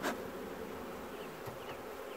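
Honeybees swarm and buzz around an opened hive on a stormy day, a dense continuous drone close by with agitated individual bees zipping past the ear.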